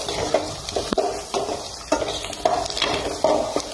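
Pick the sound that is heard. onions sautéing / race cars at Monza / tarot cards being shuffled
onions sautéing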